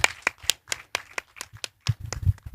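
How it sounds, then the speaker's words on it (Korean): Sparse clapping from a small conference audience, a handful of separate sharp claps spaced out in an irregular rhythm with quiet gaps between, fairly close and a bit louder toward the end. "다시 한번 좀 박수 좀"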